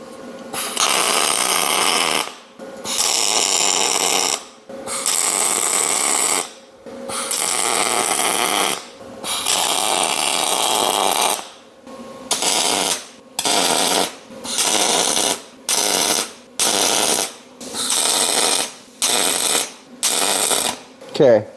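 Welding on a Bad Boy Outlaw mower, with loud buzzing crackle in repeated bursts, several long runs followed by a quicker series of short tacks separated by brief silences.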